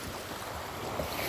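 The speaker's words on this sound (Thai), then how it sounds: "พายุเข้านะครับนู่นนะครับมืดมาอีกแล้วนะครับ" Strong wind and rough waves buffet a boat during a tropical storm at sea, a steady broadband roar with gusts and microphone wind rumble, no voices.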